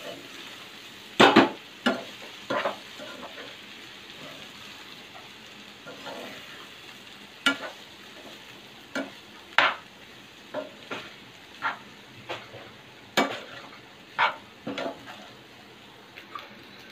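Cooked rice tossed in a hot wok for street-style veg fried rice, with a steady background sizzle broken by repeated sharp scraping and clanking stirs at an uneven rhythm, close by and without talk.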